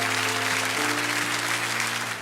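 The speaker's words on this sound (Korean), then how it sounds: "우리 한 번 더 큰 박수로 축복합니다." Congregation applauding in a church during a Christmas Sunday service, a steady wash of clapping over a low sustained organ or keyboard hum, fairly even throughout and tapering slightly at the end.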